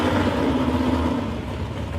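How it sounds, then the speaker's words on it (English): A 1955 Chevrolet with a 350 Chev V8 runs steadily at close range, a low continuous engine drone with a faint rough edge and no voices over it. "350 Chev power under the bonnet of that."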